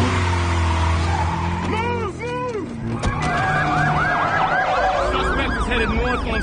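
Police car sirens wail during a chase, several rising and falling sirens layered over engine roar, loud and continuous, with a voice talking over them.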